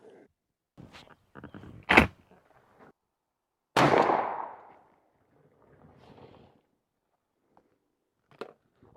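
A 20 gauge Benelli SBE3 shotgun fires Winchester Longbeard XR #5 lead turkey loads through a choke, one loud sharp blast with a short decaying tail, preceded and followed by brief handling clatter outdoors.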